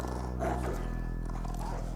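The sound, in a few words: dog growling in a film fight scene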